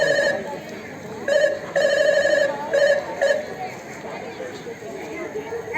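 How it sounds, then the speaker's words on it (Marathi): A telephone bell rings in short repeated bursts, about five rings, fairly loud during an outdoor street play, with voices and crowd chatter underneath. "डॉक्टर साहेब फोन आलाय."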